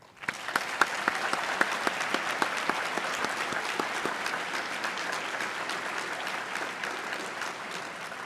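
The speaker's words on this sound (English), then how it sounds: "Please join me in a round of applause for our graduates." A graduation ceremony audience claps for the graduates: sharp individual claps stand out at first, then merge into a steady, moderately distant round of applause that fades slightly toward the end.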